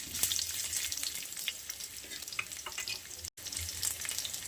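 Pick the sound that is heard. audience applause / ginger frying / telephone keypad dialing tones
ginger frying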